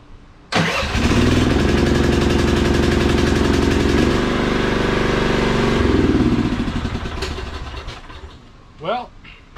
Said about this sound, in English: Starts right up now, that's good.